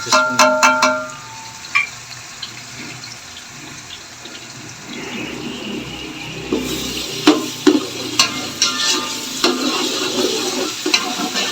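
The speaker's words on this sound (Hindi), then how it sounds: "ये तड़का बन रहा है समझ में।" Spices for tempering, with ground garlic, sizzle and crackle in hot oil, with scattered popping bursts and stirring clatter against the pan, close up.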